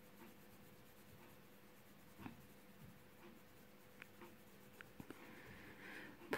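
Soft, steady scratching of colored pencil being shaded across paper to render skin tones, with quiet strokes and occasional small taps, close and faint, without talking.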